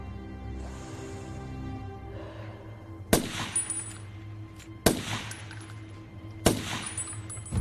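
Gunfire and sniper shots in an action film: three sharp, loud reports spaced a second or two apart, each with a brief metallic ring, over a low steady rumble of background score.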